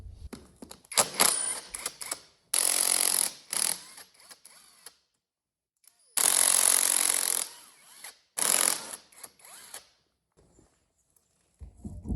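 A power tool, likely an impact wrench, zips off the crusty cylinder head nuts on a 2007 Honda 400EX ATV in several loud close bursts separated by short pauses and clinking.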